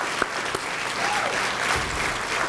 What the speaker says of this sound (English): A round of applause for the 2018 Franklin Fire Department Personnel of the Year